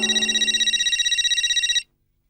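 A telephone rings in a rapid trilling electronic pattern, loud and close, for nearly two seconds before cutting off abruptly into silence.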